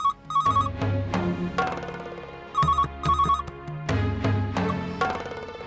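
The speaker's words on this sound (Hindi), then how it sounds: "मासा का फोन होगा।" A telephone rings in a domestic indoor setting, repeating bursts of bright electronic tones separated by short pauses, loud and alone with no talk over it.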